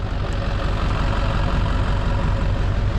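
A motor engine runs close by with a loud, steady low-pitched throb and rapid regular pulsing, idling continuously without change at a mountainside fire scene.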